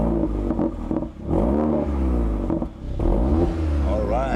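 A Mercedes-AMG CLA 45 four-cylinder with AMG sports exhaust revs up and down nearby, a loud, deep engine note that rises and falls in pitch across repeated blips, with a voice speaking over part of it.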